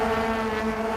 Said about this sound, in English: These high revving 2-litre engines, the VTEC engines, always do create a great soundtrack for us to enjoy here trackside.